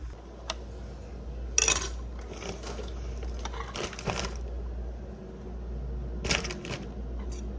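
A knife cutting kielbasa sausage on a cutting board for a one-pot pierogi and kielbasa dinner, a few sharp separate chops and taps spaced out over a low steady hum, with no talking.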